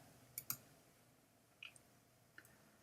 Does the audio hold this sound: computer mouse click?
yes